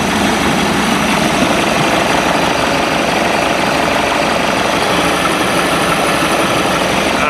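A rebuilt sterndrive boat engine idles on a sea trial with a steady, dense rumble and a continuous sizzling hiss over it, loud and close, holding constant throughout.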